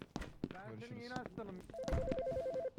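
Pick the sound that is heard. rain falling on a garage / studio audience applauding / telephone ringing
telephone ringing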